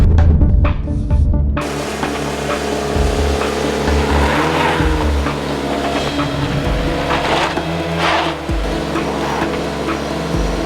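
A 2016 Jeep Renegade engine strains loudly as it climbs a steep off-road hill, rumbling steadily under throttle with rising and falling revs and scraping, bumping noises from the terrain.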